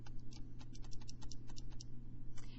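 Numbers are tapped into a calculator, giving a quick run of light, close plastic key clicks in an irregular rhythm, fairly faint over a low steady background hum, with no voices.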